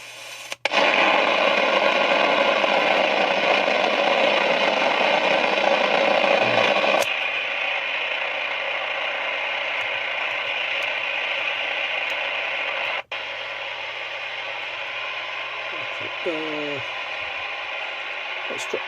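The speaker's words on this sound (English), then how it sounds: "Well, the radio is alive." A repaired Sony ICF2001 radio receiver plays loudly with steady broadband static and sound, then drops to a quieter level as the volume is turned down, ending with faint clicks.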